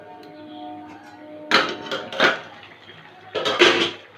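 A cooking pot of potato and broccoli curry with green chillies is covered with its lid, giving a few sharp metallic clanks and knocks after a quiet moment, then another clattering lid contact near the end.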